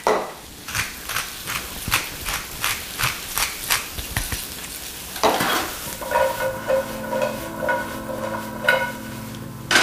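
Vegetables being tossed and stirred in a hot sauté pan, giving rhythmic scraping and rustling strokes over a soft sizzle, followed by a steadier frying hiss.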